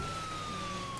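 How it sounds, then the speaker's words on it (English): A single held, slowly falling siren tone from an ambulance in the video game GTA IV, loud and continuous over engine and background noise. "I completely hear an ambulance."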